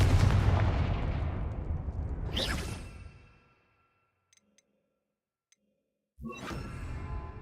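Confringo explosive spell cast in the Hogwarts Legacy video game: a loud blast with a sharp whooshing burst that rumbles and decays into near silence, followed a few seconds later by another strong impact.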